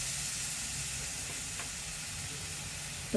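Bananas frying in a pan for banana halwa (sheera), a soft continuous sizzle and hiss, fairly quiet and close, with a brief knock at the end and no talk.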